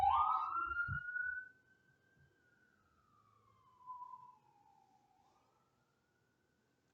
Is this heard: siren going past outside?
yes